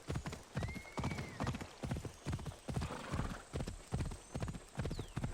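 Horse hoofbeats clip-clop in a steady galloping rhythm while riding in the video game Assassin's Creed Odyssey, loud and close, with a brief whinny and game ambience over the top.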